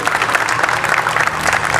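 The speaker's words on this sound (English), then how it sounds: "Please give them a big round of applause, please." A crowd at a school Republic Day event breaks into a loud round of applause, dense and continuous clapping close by, with faint voices mixed in.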